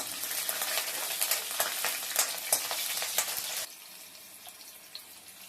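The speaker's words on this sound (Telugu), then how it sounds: "కట్ చేసి పెట్టుకున్న పచ్చిమిర్చి వేస్తున్నాను. ఫ్రై చేస్తున్నాను." Green chillies and a bay leaf sizzle and crackle in hot oil in a pan, with sharp pops over a dense hiss that drops abruptly to a quieter, softer fizz partway through.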